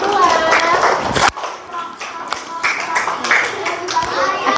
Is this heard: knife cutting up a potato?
no